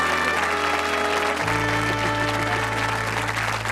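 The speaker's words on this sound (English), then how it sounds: "Give him a round of applause, folks, Chris." Studio audience applause, a dense, loud and continuous clapping from a crowd at a 1980s television game show, with a musical sting rising underneath partway through.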